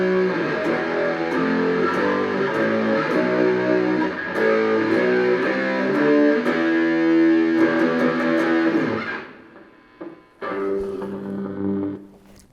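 Electric guitar with distortion playing sustained chords and notes, loud and gritty, continuous before trailing off into a short pause and a final strummed return.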